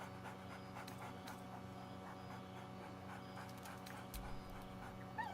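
Scratch, the dog companion in Baldur's Gate 3, pants quickly and steadily at close range, with faint whimpers and soft whines mixed in over a quiet low ambient hum.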